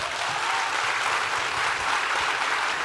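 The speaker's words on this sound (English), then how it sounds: "I think we can clap louder for that." Steady, dense applause from a large audience at a televised panel conversation, sustained and loud throughout with no voices breaking through.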